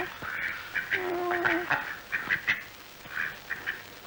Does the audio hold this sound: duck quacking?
yes